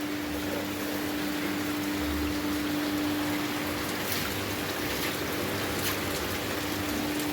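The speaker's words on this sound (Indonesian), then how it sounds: "Jadi garam krosok ini kita taburkan ke kolam kita seperti ini." Coarse crude salt sprinkled by hand into a tilapia fish pond during the rainy season gives a steady, soft granular patter on the water surface over a low hum, with no talking.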